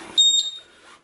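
A single loud, piercing electronic beep from a Honeywell RWD21 water leak detector alarm rings out close by, then cuts off into quiet.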